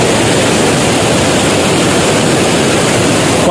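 Strongly flowing water heard from a bridge roars in a loud, constant broadband rush with no breaks, filling the whole scene alone.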